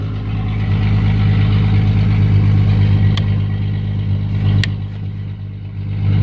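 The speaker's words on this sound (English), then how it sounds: "It needs a muffler, it's loud." A 1997 Jeep Cherokee engine idles loud and close with no muffler, a steady deep rumble that swells slightly and then eases, with a couple of brief clicks over it.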